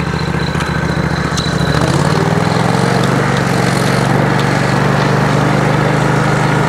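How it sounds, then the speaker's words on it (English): A semi truck's engine rumbles loud and close, its low drone steadying and rising slightly after about two seconds as the rig draws nearer in wet conditions. "Semi coming."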